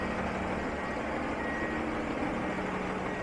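Repeated reversing beeps from a semi truck carrying a truck-mounted forklift, sounding at steady intervals over a low diesel rumble, moderately distant and continuous throughout.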